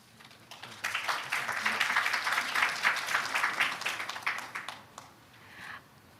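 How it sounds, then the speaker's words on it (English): An audience breaks into sustained applause, many hands clapping together in a dense wash that swells, holds for several seconds, then fades out. "Please welcome her with a big round of applause."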